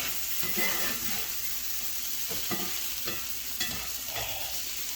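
A crab dip being mixed with citrus juice, soft scraping stirring strokes repeating every second or so over a steady hiss, close and moderately quiet, without speech.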